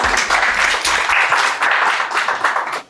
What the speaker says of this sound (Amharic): ለራሳችሁ ጭብጨባ